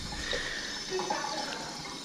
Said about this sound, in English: And so now we just add water to cover them